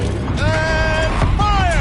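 A turret rotates in Horizon Zero Dawn with a short mechanical grinding and creaking. Whining, ratchet-like tones glide up and down as it turns, loud and close, lasting under two seconds.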